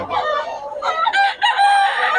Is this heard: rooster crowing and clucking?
yes